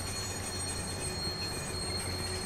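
Train rolling along the tracks in the video game Watch Dogs, a steady close rumble with high metallic wheel squeal running continuously throughout.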